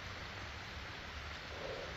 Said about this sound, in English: it's been raining a lot here all week long